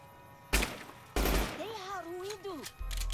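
Tommy gun fire in Fallout: New Vegas, two loud sharp bursts of shots with a brief creaky whine between them, and another burst at the end.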